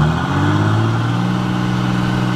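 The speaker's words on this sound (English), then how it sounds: "Look at how fast you climb up in RPMs." A 3G Ram 3500 truck in low first gear, its engine revving hard and climbing quickly to high RPM at crawling speed; a loud, close, steady mechanical roar with no talk.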